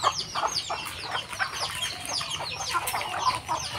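Native chickens and roosters at a village market cluck and squawk in overlapping bursts, close and busy, with a low background hum.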